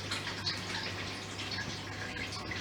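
Water runs steadily from a tap over salted meat being rinsed, a constant close hiss and splash with no pauses.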